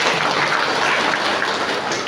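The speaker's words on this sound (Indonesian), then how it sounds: "Tepuk tangan buat mereka." An indoor audience applauds at a parenting class marking a junior high school's 46th anniversary in Depok. The clapping is loud, dense and continuous, with no talking.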